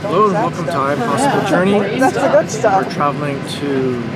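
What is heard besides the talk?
No everyday noises stand out.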